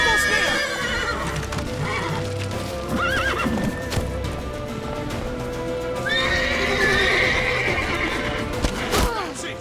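Horses in The Witcher 3 neigh and whinny repeatedly while hooves clip-clop at a gallop, loud and close, with voices speaking over parts of the action.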